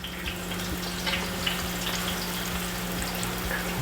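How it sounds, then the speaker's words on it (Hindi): Finely chopped onion dropped into hot oil for an Awadhi mutton stew, giving a steady, quiet hiss of frying with faint bubbling, close by and without any voices. "तो अब हम डालेंगे इसके अंदर प्याज,"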